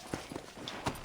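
Horse hooves clip-clop in the Red Dead Redemption video game, a few spaced thuds at an easy pace over a soft background of game ambience.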